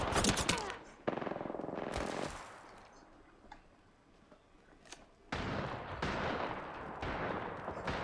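Video game combat with bursts of gunfire and a grenade blast, loud rapid fire at the start and again in the second half, quieter in between.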